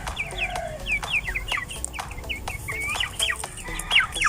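Rhode Island Mahogany chickens on a free-range farm cluck in many quick overlapping calls, close and lively, over a steady outdoor background with no speech.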